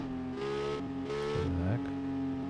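Car engine accelerating in the mobile game Ridiculous Parking Simulator, a steady revving drone with rising pitch sweeps, heard alone at moderate loudness.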